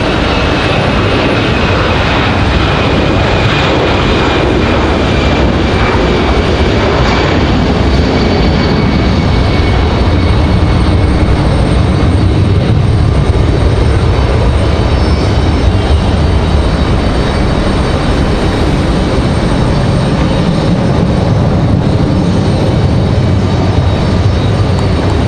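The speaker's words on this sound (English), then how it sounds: "we've got an American A319 on the move, headed back to Philadelphia" An American Airlines Airbus A319 jet taxis at Raleigh-Durham International Airport, a steady broad engine rumble and whine holding loud and constant throughout, with no speech.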